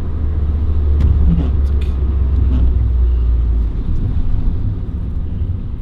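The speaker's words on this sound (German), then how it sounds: "Oh, wir fahren jetzt direkt auf die Autobahn." A Mitsubishi Colt CZT 1.5 Turbo joins the autobahn, its engine and road noise a loud, steady low rumble that swells slightly and then eases off.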